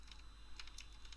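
Quick typing on a computer keyboard, a short burst of faint, close key clicks in an irregular rhythm over low background hum.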